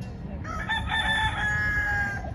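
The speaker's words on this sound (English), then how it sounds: "There were chickens everywhere." A rooster crows on a street in Ybor City, a single drawn-out cock-a-doodle-doo lasting about two seconds, fairly close and clear over low background street rumble.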